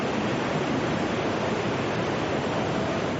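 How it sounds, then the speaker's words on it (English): A tsunami wave pours over a seawall and across a road, a loud, steady roar of rushing water and broadband noise with no break and no voices. "The wave poured over a seawall and across a road."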